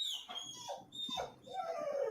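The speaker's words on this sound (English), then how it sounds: "Who got that dogs crying, man?" A dog whines and cries steadily in high, wavering tones, wanting to go outside, heard faintly throughout as a continuous plaintive whimper.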